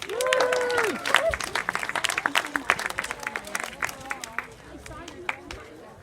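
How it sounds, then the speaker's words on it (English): A crowd at a 5K trail race awards ceremony claps steadily in brisk applause, strong at first and gradually thinning out, with a brief tonal call near the start. "So give them a round of applause."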